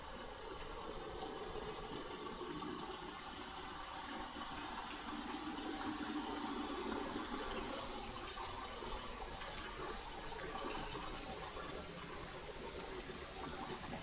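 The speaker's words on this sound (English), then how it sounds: "Another waterfall." Waterfall in the video game Dear Esther, inside a cave: a constant broad rushing roar of falling water, steady and enveloping, with no talking.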